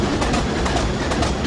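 Class 25 diesel locomotive hauling cattle wagons on the Wearhead to Bishop Auckland line in Train Simulator Classic, a steady loud rumble of wheels on rails with repeated rhythmic clicks over rail joints.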